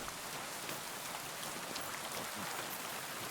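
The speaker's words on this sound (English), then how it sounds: "Rain again." Steady rain falls in Kingdom Come: Deliverance II, a dense, even hiss of drops spattering on surfaces with no pause and no voices over it.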